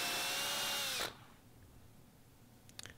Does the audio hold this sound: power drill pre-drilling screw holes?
yes